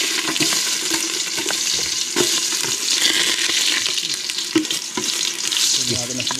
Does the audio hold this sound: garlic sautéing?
yes